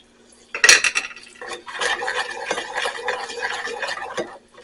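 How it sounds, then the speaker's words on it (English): A utensil clatters and scrapes around a pot of ginger sauce on the stovetop, opening with a sharp metallic knock and then stirring steadily for several seconds before stopping. "we're going to stir that up"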